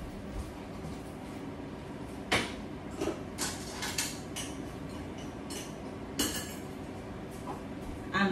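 Clinks, clatters and soft knocks of pots, dishes and utensils while lunch is cooked in a home kitchen, a few sharper metallic hits standing out over a low steady background.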